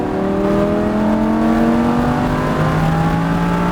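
A Lamborghini Huracán engine accelerates steadily on a race track, its pitch climbing smoothly and loud throughout, with no talking.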